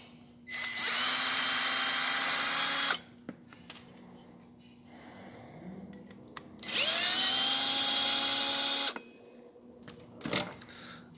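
Two bursts of a close, loud power drill whine backing out screws on either side of an M10X rifle receiver, each lasting a couple of seconds, with clinks and handling noise between and after.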